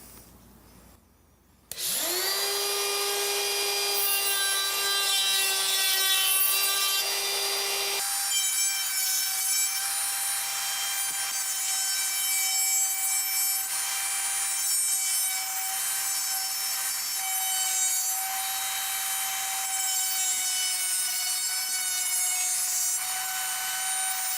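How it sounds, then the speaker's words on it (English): Trim router with a 1/8 inch roundover bit shaping the edges of a small scrap wood piece: a steady, loud high-pitched motor whine that starts abruptly, holds constant, and shifts slightly in tone as the cutter bites the wood. "rather than use my router table, I'm going to use my trim router"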